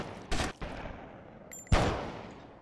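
Gunfire in the video game GTA Vice City: two sharp separate shots, the second louder, then a third cut short at the end, with a faint electronic tone between them.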